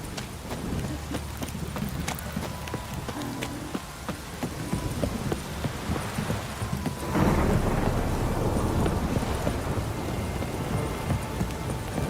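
Heavy downpour with rolling thunder in The Witcher 3: Wild Hunt, constant rain hiss over deep rumbles, with clopping hoof-like knocks early on and the storm swelling louder partway through.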